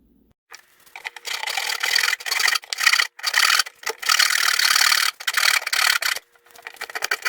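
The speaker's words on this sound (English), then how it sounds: "we'll clean it up with a little chisel" A chisel scraping and paring into an inside corner of salvaged roadside wood, close rasping strokes in steady bursts of about a second each with brief pauses, no talking.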